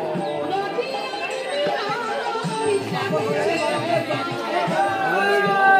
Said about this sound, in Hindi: भीड़ देखो गाइस